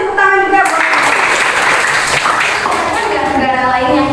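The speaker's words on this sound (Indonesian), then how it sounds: "kasih tepuk tangan juga buat" Classroom applause from students during a history lesson, a brief burst of many hands clapping with a voice talking over it, moderately loud and close.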